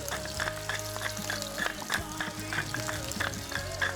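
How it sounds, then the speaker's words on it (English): Vegetables for pulled pork egg rolls, including big chunks of pepper, sauté in a hot pan, a dense crackling sizzle with rhythmic scraping stirs and spatula clinks, close-up and steady throughout. "Now we are sautéing away all of these great vegetables that we're going to be putting on the pulled pork egg"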